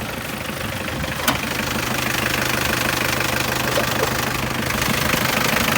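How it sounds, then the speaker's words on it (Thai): A 1993 Mitsubishi Cyclone pickup engine idles loud and close with a steady, rattly mechanical churn, and its slightly loose drive belt adds a faint whirring note underneath. "มีดังนิดนึงครับสายพานหย่อนนิดนะฮะ"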